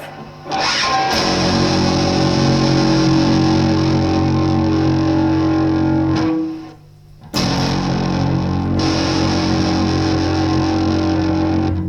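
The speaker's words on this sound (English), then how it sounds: "So I've basically got just the original distortion sound, no drive, no overdrive." An electric guitar plays a loud, sustained distorted chord through an effects unit, cuts out briefly around the middle, then rings in again with no talk over it.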